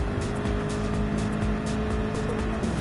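A BMW GT3 race car in a racing video game at Mount Panorama, engine droning loudly and steadily with a sustained tonal whine and faint tire noise, close and continuous.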